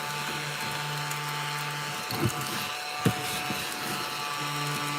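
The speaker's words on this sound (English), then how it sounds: "My little vacuum I got myself. It's a little ladybug." A small handheld ladybug-shaped vacuum cleaner runs with a steady, thin motor whine and hum, close and continuous, broken by a couple of brief knocks as it bumps against surfaces.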